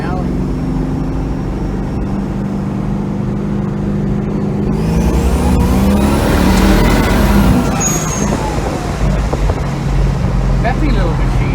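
A 1993-style turbocharged Mazda RX-7 fitted with a small-block V8 cruises at low RPM, a steady deep engine drone under road noise and a brief turbo whistle, heard from inside with people talking over it.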